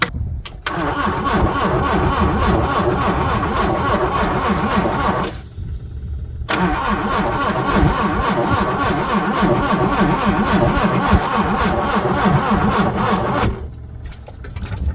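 An old Toyota engine is cranked over after fuel pump cleaning: a long stretch of loud, rhythmic starter cranking up close, briefly interrupted by a pause, then continuing without catching.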